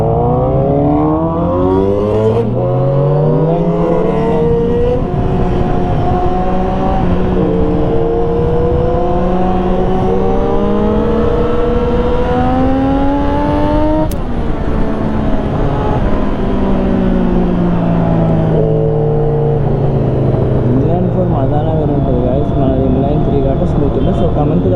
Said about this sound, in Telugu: ట్రాఫిక్ ఎక్కువ ఉంది